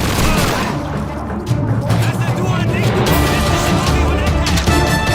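Loud, dense blasts and rumbling bursts from Call of Duty 2 fill the clip continuously, with a sharp boom near the middle and no pause.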